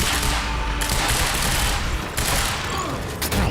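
Heavy pistol gunfire in the Quantum Break video game, rapid overlapping shots packed densely into a continuous loud barrage with a few sharper cracks breaking through.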